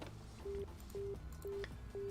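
In the video game Virtue's Last Reward, a telephone keypad dials four short, evenly spaced tones in quick succession over quiet background ambience.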